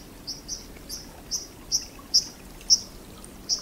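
A white-throated dipper on a European stream gives a series of about eight sharp, high chirps at a steady, slightly uneven rhythm, moderately close over a soft background murmur of flowing water.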